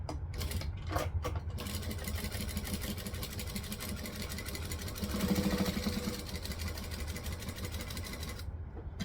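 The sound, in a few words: sewing machine stitching a jelly vinyl pouch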